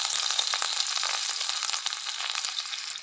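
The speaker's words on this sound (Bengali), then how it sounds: "এবার পেঁয়াজ দেওয়া হচ্ছে তেলে, রিফাইন তেলে" Onions frying in refined oil in a pan for papaya kofta, a steady, close, loud sizzle with small crackles and a few light stirring scrapes throughout.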